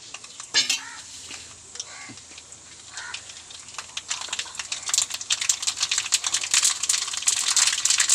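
Mustard seeds crackle in hot oil for a mango and yogurt curry tempering, with sharp scattered pops that grow denser and louder toward the end, over faint kitchen clatter.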